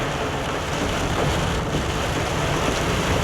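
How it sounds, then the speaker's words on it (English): Heavy monsoon rain during a drive on a wet road gives a loud, steady, unbroken hiss with a low rumble underneath and no voices. "It's raining, and look, the road seems to be pretty wet."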